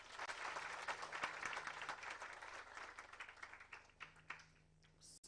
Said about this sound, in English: let us give them a big hand clap